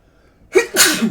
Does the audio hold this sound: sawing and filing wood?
no